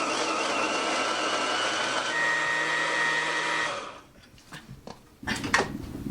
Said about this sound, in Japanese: でこれミキサーにこうやってかけるね。